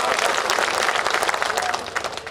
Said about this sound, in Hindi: एक बार तालियां बजा के मेरा समर्थन करो